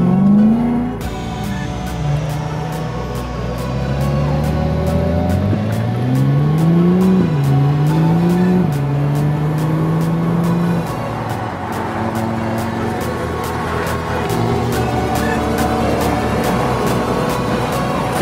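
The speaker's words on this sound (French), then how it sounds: "On fait le dépassement et tout, puis moi je filme Jay sur ce coup là" BMW cars overtaking on a mountain touge road: loud engine notes climb and fall through repeated gear changes as the cars accelerate past, with a steady close drone continuing beneath.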